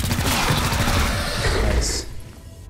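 Gunfire in the tactical video game XCOM: Chimera Squad, a short loud burst of rapid shots with a rumbling tail that cuts off after about two seconds.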